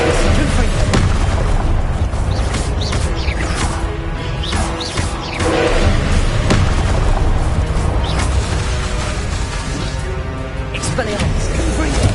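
Confringo explosive spells blast again and again during wizard combat in the video game Hogwarts Legacy, loud booming bursts and crashes packed densely together, with a voice calling out over the fight.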